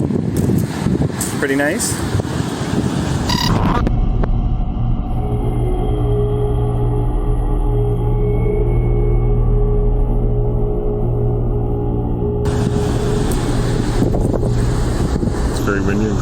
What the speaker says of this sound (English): It's very windy and cold.